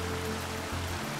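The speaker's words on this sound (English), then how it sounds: "to be able to get the sound that we have on this particular water feature" Water from a backyard pond waterfall feature runs in a steady, continuous wash, close and even, with no voices.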